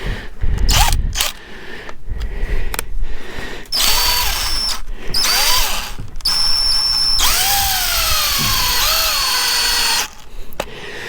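A power drill drives grip studs into the knobby tire of a KTM 300 dirt bike, in repeated short bursts of whining motor that rise and fall in pitch, close and loud, with brief pauses between.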